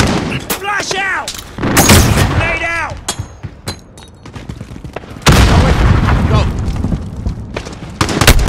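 Flashbang grenade going off in Call of Duty: Modern Warfare, amid sharp bursts of gunfire and booming blasts, loud and close, with shouted voices in the middle of the fighting.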